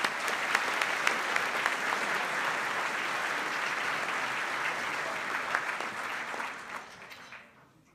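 Another round of applause at an aviation competition awards banquet for a first-place winner, many hands clapping steadily and fairly loud, with a few sharper claps standing out, tapering off over the last second.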